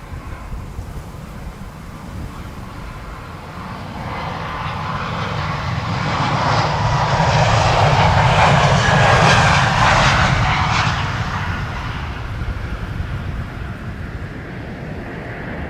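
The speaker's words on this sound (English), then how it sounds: "KLM flight 1777 to Berlin, E2 Embraer 195." A KLM Embraer 195 E2 jet roars past at Amsterdam Schiphol's Polderbaan runway, its broadband engine noise swelling loud from a steady rumble to a peak midway and then easing off, with some wind buffeting the microphone.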